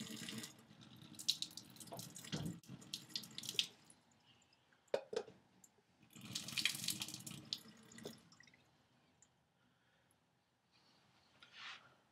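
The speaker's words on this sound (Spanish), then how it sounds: "Nuestro próximo paso es vaciar el agua que usted no quiere." Water from a pot of ramen pours into a kitchen sink in gushing bursts, splashing and trickling near the listener, with quiet gaps and a final short pour.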